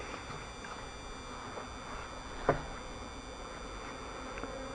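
Honeybees flying around the hives at an apiary, a soft continuous buzzing of many insects at moderate distance with one brief louder pass near the microphone.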